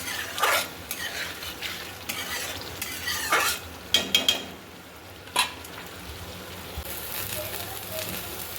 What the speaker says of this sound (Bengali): তখন সামান্য জল দিয়ে আর একটু কষাতে থাকবে।